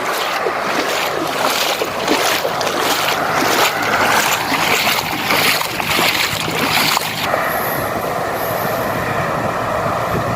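Flood water rushes and surges loudly and continuously, a broad roaring wash with no voices, steady throughout.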